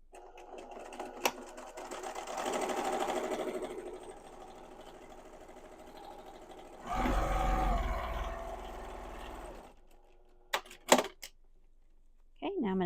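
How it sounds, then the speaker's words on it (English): Sewing machine stitching a seam a quarter inch into fabric for a peasant dress, a steady mechanical whir that runs in two bursts, the second louder and lower, with talking and a few sharp clicks around it. "I'm going to sew it at 1/4 inch from where that white part ends into my fabric"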